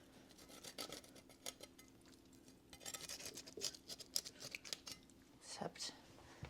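A turkey being spatchcocked, with crisp snipping cuts and clicks of cutting through the bird, coming in irregular bursts close by in a quiet kitchen.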